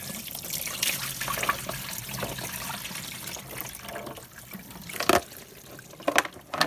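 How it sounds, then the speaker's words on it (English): Dirty, yellowed water is drained out of a container while restoring an old LJN WWF wrestling ring toy, a light trickling and splashing that swells and fades, with a few sharper splashes near the end. "I'm going to drain this water out because it's pretty disgusting."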